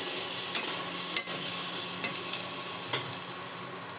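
Gram flour is stirred into a bitter gourd stuffing mixture in a hot pan, giving a steady soft sizzle broken by occasional scraping strokes of the spoon, close and alone.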